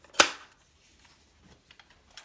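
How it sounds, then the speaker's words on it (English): A vintage Kodak No. 1A Autographic Junior folding camera, in good condition, fires its shutter in a single sharp, close click, followed by faint small handling taps. "Shutter works just fine."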